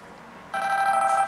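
A Samsung Galaxy S Wi-Fi 3.6 tablet's phone-style ringtone starts abruptly after a brief quiet moment and rings on steadily, clear and close.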